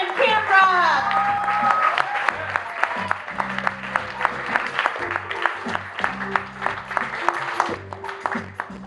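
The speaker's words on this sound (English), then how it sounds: "Let's clap the poetry one more time" Audience applause at a poetry slam fills the room, sustained many-handed clapping with a voice over the start and a steady music bed underneath throughout.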